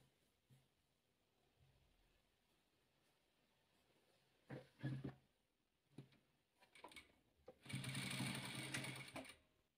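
Sewing machine stitching patchwork fabric, heard in short bursts of rapid mechanical whirring, with a couple of brief runs and then a longer, louder sustained stitch near the end in a quiet room.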